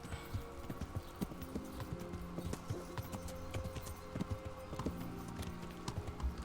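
Steady clip-clop of horse hooves trotting at a regular rhythm in the video game Kingdom Come: Deliverance, fairly close, with no talking over it.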